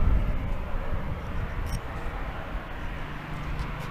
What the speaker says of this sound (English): Just wait for this plane to go.